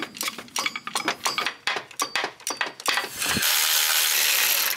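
Metal clicks, ratcheting and tool clatter while disconnecting the clutch slave cylinder on a BMW X5 six-speed manual transmission, a quick irregular run of close taps and knocks, then a steady hiss at the end.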